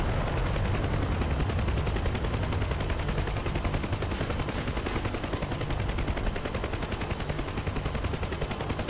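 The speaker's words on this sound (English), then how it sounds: "Convoy returning fire" Sustained gunfire from a convoy in a DCS helicopter combat game, with dense rapid machine-gun bursts and rotor-like rumble continuing steadily and loudly throughout, with no talking.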